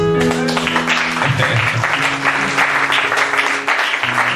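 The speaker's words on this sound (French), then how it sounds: "Est-ce que quelqu'un peut applaudir Jésus?" A church congregation applauds loudly and steadily for several seconds during a French-language sermon, with dense clapping filling the space and a few voices and cheers rising through it.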